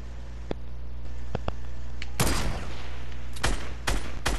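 Fortnite gunfire rings out in sharp shots: a few isolated cracks early, then a dense burst of rapid fire and several more loud reports near the end.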